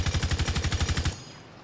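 Sofia's gun in Rainbow Six Siege fires a rapid, evenly spaced burst of about fifteen loud, close shots, then stops abruptly as a short echo fades out.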